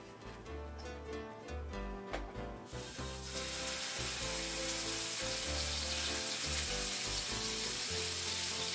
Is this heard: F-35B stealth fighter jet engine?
no